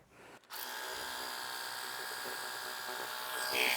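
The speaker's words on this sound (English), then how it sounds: "simulate, you know, just smashing a huge mud puddle with a pressure washer" A pressure washer sprays an electric scooter in a strong, steady hissing roar. It starts abruptly after a brief quiet moment, stays loud and close without pause, and swells slightly toward the end.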